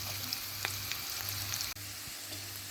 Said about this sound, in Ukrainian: Буду смажити під кришечкою на середньому вогні.